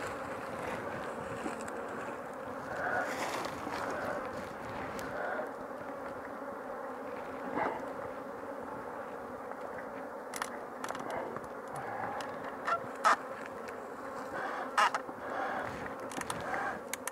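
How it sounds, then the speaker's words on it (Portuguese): Agitated honey bees swarm and buzz during a honey harvest in the Brazilian cerrado as smoke is applied to the hive, a dense continuous drone with individual insects zipping close past, occasional distant crow caws. "que essa abelha tá brava pra caramba"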